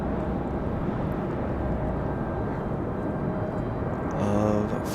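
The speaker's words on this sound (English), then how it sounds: "FedEx ATR coming in closer." A FedEx ATR turboprop approaching Raleigh Durham airport, a steady distant engine drone and broadband rumble that swells slightly near the end.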